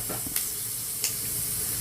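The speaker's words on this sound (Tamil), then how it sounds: "1 டீஸ்பூன் கடுகு ஆட் பண்ணிக்கோங்க. வெந்தயம் ஆட் பண்ணிக்கோங்க." Mustard seeds and fenugreek frying in hot oil for a drumstick kuzhambu, giving a steady soft sizzle with two brief louder pops, fairly quiet and with no voices.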